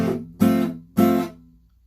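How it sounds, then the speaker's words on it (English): Acoustic guitar strummed in three short bursts, each chord choked off by releasing the fretting hand so it stops abruptly like a picked note; close, fairly loud, no voices. "every time you strum, you're going to release pressure with the left fretting hand to stop the sound"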